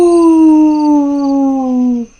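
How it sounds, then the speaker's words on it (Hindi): One jackal lets out a loud, sustained howl, close and clear, sliding gradually downward in pitch before cutting off, heard alone without voices. "ये तो शियार की आवाज है।"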